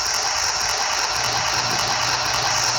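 A bus engine idles in the driving game Desert Bus, a steady, loud, rattling drone with a constant hum and no break, heard without voices.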